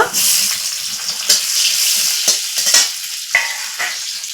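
Small fresh homegrown tomatoes go into a hot frying pan, setting off a loud close sizzle with sharp bursts and spatula scrapes as they are stirred in the oil.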